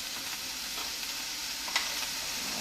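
Rabbit meat browning in a hot pan, a steady quiet sizzle with faint stirring scrapes and one brief clink near the end, no talking.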